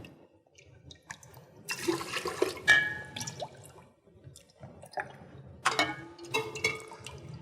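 Water poured back and forth between two large lab beakers using a small beaker for each transfer, with some spilling. Soft splashing and trickling come in a few separate bursts, close and fairly quiet, with no talking.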